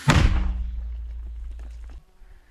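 A single heavy boom from an M119 howitzer firing hits at the start, then a long low rumble fades out over the next couple of seconds.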